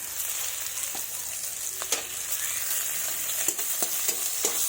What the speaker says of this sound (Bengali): এবার ওই তেলেই ফোড়ন দিব